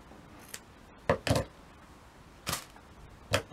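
Scissors snip through paper for Christmas crafting in a few quick, crisp cuts spaced over a few seconds, close and clear against a quiet room.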